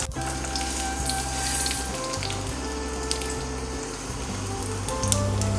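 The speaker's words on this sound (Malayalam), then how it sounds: "അപ്പോൾ നമുക്കതിലേക്ക് ഈ സേമിയ ഇട്ടുകൊടുക്കാം" Vermicelli (semiya) hits a hot pan and fries with a steady crackling sizzle, interrupted by clinks and scrapes of stirring, moderately loud and close, with no talking.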